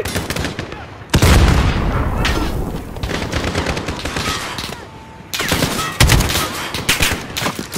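In a Call of Duty: Modern Warfare campaign firefight, a grenade explodes with heavy booms amid sustained loud gunfire, rapid bursts and rattling shots filling the whole stretch.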